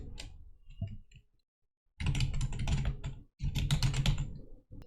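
Keystrokes on a computer keyboard typing into the Windows 10 search box, with a few scattered taps, a brief pause, then two rapid runs of close, crisp clicks.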